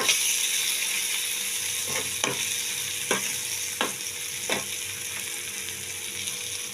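Spice masala sizzles steadily in a pan for Amudi fish curry, a loud, constant hiss broken by several sharp scrapes and knocks of a stirring spoon.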